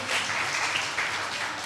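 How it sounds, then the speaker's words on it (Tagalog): A church congregation claps together in a steady, dense wash of applause that holds evenly throughout without any voices rising above it. "Pumalakpak ng malakas"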